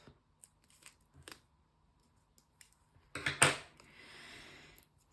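Scissors snip to trim off a single leaf, a quick crisp cut close by after a few faint handling taps, followed by soft rustling.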